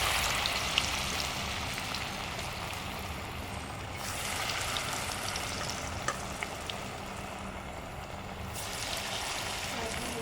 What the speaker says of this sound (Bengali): এই যে তেল গরম হয়ে গেছে, এবার পেঁয়াজি ছেড়ে দেবো